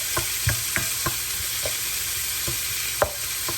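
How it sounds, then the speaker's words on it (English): Red and green peppers with onions sauteing in a pan, a steady close sizzle broken by repeated light clicks and scrapes of stirring, no voices. "I'm sauteing up the peppers and onions"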